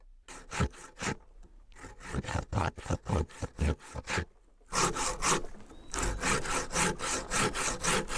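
Rhythmic scraping strokes of something being grated on a toothed wooden grater carved from angico wood in a Kalunga quilombo, rasping back and forth close up, faster and denser in the second half.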